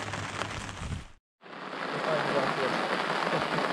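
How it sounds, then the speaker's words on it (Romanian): Steady rain falls at a carp fishing lake, a dense hiss that cuts out for a moment and then returns even louder and continues without a break. "Ce, te plouă?"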